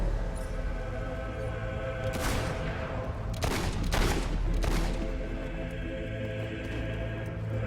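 Scattered gunshots in Fable III during a battle, a few sharp cracks and short bursts standing out over a continuous rumbling background, moderately loud with no clear speech.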